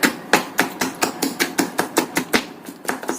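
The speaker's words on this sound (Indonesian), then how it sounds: "Ini kita potong-potong dulu. Ini. Kemudian kita cincang halus." Shrimp being finely minced with a knife on a cutting board for dumpling filling, a fast steady series of sharp close chops at an even rhythm.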